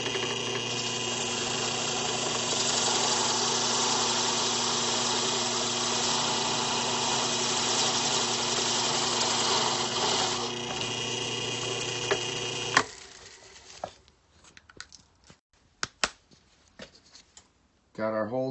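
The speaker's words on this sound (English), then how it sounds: "Going to go ahead and drill a hole, inch and an eighth, all the way through, straight in the center." A drill bores a 1 1/8 inch hole straight through the center of a trailer-mounted lawn care tank, running as a loud, steady whir for about thirteen seconds before stopping, followed by scattered clicks and handling noises.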